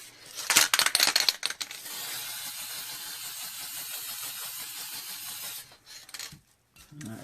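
A spray can hisses out clear coat in a long, steady burst lasting several seconds, preceded by a few quick rattling shakes of the can and followed by faint handling clatter.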